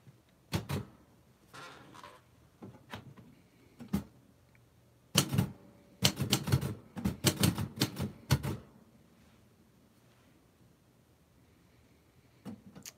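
Keys of an old manual typewriter clack in short irregular bursts, with a busy flurry of strikes in the middle and quieter isolated taps at the start and end, close and alone.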